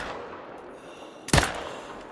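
A single hunting rifle shot cracks out sharply in theHunter: Call of the Wild during a wild boar hunt, a loud report breaking a quiet outdoor ambience and then dying away in a short echo.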